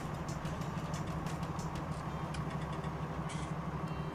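A tractor engine idles in the farming game Farming Simulator 19, a steady low mechanical hum with an even drone throughout, faint and unchanging, with no talk over it.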